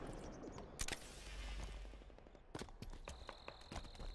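Shooter video game gunfire with bursts of rapid shots and scattered single cracks, loud and close, spread across the clip with no talk.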